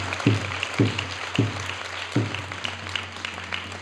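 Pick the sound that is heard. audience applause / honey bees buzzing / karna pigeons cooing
audience applause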